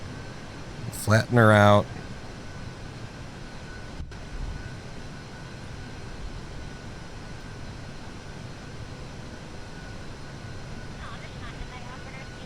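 Aircraft engine in Kerbal Space Program as the throttle is pulled back, heard as a steady, moderately loud whooshing drone that holds level throughout, with a brief burst of a man's speech near the start.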